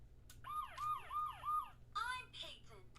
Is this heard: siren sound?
yes